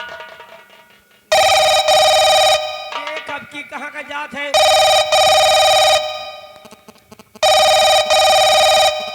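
A telephone rings in loud, sustained electronic bursts, three long rings with pauses between them, while someone talks over the gaps in a Bhojpuri folk drama.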